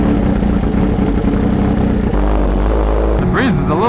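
Kawasaki H2R motorcycle engine runs in a low steady drone while someone talks over it outdoors on a chilly, breezy day.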